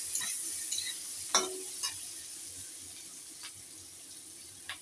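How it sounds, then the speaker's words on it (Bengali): A pan of food is stirred after turmeric goes in, giving a faint steady hiss with a few soft scrapes and clinks spread across the stretch, no voices. "হলুদটা দেওয়ার পরে আমি একটু নাড়াচাড়া করছি।"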